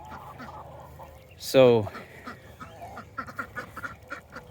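A single loud duck quack rings out close by on a farm, set against faint background chatter and soft poultry murmurs, with a person speaking briefly.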